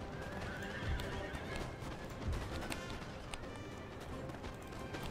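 Cavalry in the Napoleon: Total War video game, with horses neighing and hooves pounding in a gallop amid dense battle noise. The din is loud and continuous.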